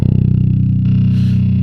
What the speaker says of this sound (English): It is a TS9 or an 808 Tube Screamer